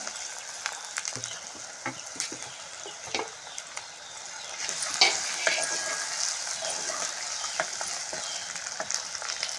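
Tomatoes hit softened onions in a frying pan for a raw-mango curry, sizzling up close while a spoon scrapes and knocks at irregular intervals; the sizzle swells louder in the second half.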